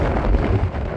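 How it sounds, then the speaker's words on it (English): Loud, low buffeting wind rumbles against the microphone in a short, steady gust in Wyoming's Great Basin. "It's windy as all hell."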